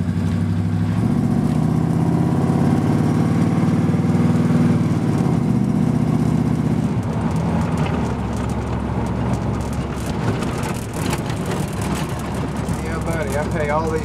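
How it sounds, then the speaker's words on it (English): A car engine fitted with dual exhaust and glass-pack mufflers rumbles loudly and steadily throughout at close range, with a deep low drone and a few rises in pitch, while people talk over it in the second half. "Dual exhaust. It's got glass packs on it."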